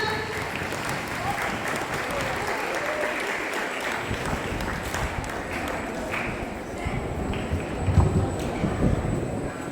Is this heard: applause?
yes